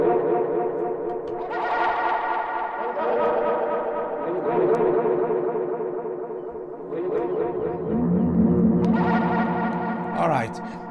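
A synthesizer tone from an FRMS granular synthesizer with a delay effect plays, its notes repeating and smearing into echoing trails that build and overlap before fading.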